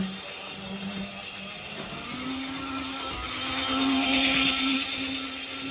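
A small motor whirs steadily with a rising hum, a vintage model train running at full speed down a straight on a Gaugemaster controller, mid-distance and continuous without talk.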